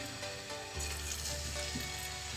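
Fish pieces shallow-fry in oil with a continuous, even sizzle that swells slightly partway through as more pieces go into the pan, with no talk.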